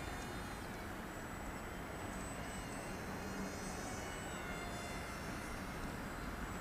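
A Z51 Predator beginner RC airplane flies in calm conditions, its steady, faint motor buzz carrying evenly under broad outdoor noise with no talking.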